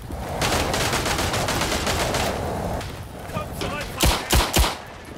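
Madsen light machine gun fire in the Verdun video game, sustained rattling bursts of distant and nearby gunfire with a few louder close shots near the end, under muffled battlefield noise.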